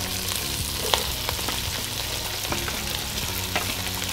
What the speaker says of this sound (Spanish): Y ahora dejamos que sofríe un rato